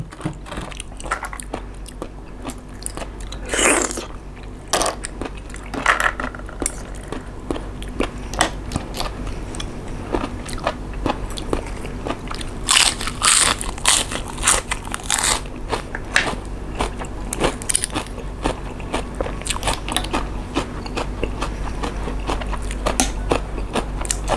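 Crunchy bites and chewing on fresh blanched cockles from a pond at Khlong Khon, quenched in ice water, with repeated crisp crackles and smacking close to the mic over a steady outdoor background, without talking.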